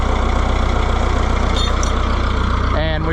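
An Oliver 1365 utility tractor engine idles loudly and close, a steady low rhythmic chug with a faint squeak near the end.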